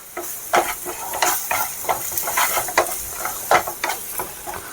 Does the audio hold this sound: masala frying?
yes